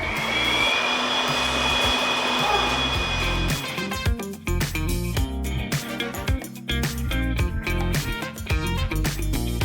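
A steady, loud whooshing blast of air from a blower runs continuously, joined partway through by rhythmic music with a thumping beat.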